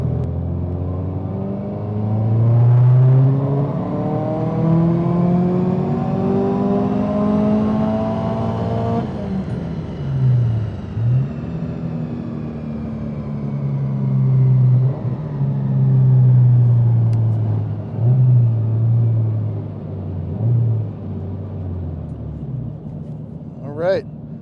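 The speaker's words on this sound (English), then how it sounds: "we're getting ready to do a dyno pull on E85 with the new turbo, new injectors, new Access Sport V3" A Subaru STI on a dyno, running E85 with a new turbo, new injectors and an Accessport V3 tune, revs hard and loud, climbing steadily for about nine seconds before a sharp drop, then surging and easing again in several more swells.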